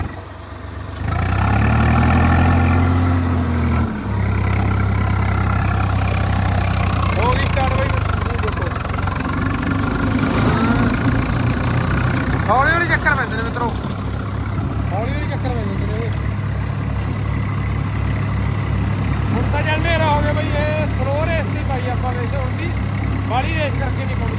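A straw-chopping machine's engine is started off a battery on a farm. A brief starter whine and surge give way to a steady, rumbling idle close by, with people talking over it.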